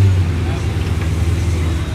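A Pontiac GTO with a cammed engine idles in a low, loping rumble at a busy cars-and-coffee meet, heard amid crowd chatter and other vehicle noise.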